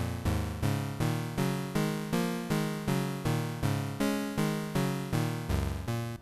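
A synth sequence is played together with a copy of itself transposed down five semitones, forming a partial chord. Plucked notes pulse evenly, about two per second, each decaying quickly, with no other sound present.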